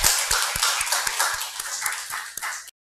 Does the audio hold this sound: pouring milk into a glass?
no